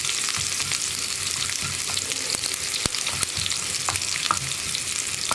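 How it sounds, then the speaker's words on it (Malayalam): Round-cut onions fry in hot oil for a snake gourd chilli curry, giving a continuous close sizzle. Soft scrapes and clicks of a spoon stirring the pan come through the hiss, and no one speaks. "ഇനി ഉള്ളി ഒന്ന് ബ്രൗൺ കളറായി വരുന്നത് വരെ ഇളക്കി കൊടുക്കുക."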